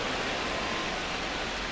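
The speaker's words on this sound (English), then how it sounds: "This rain is not letting up." Steady, dense rain falls continuously during a rainy baseball game, a loud even hiss with no breaks and no voices.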